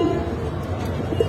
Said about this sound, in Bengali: এইখানে একজোড়া কবুতর আছে ভাই, এটা কাজ করা কবুতর